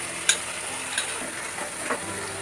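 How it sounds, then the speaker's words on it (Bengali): Tomato paste going into garlic frying in a pan, giving a soft continuous sizzle with a few light clicks of stirring, close and moderately quiet. "এবার আমি দিয়ে দিচ্ছি আমি যে করে রেখেছিলাম টমেটো পেস্টটা, সেটা।"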